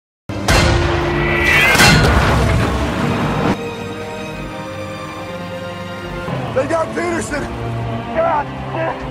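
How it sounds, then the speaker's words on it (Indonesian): A tank cannon fires in the World War II film Fury, a German Tiger tank's shot erupting in one huge, close boom that rolls into a long rumbling tail before busier battle noise returns. "Sementara tank Tiger membalas serangan dengan tembakan yang presisi"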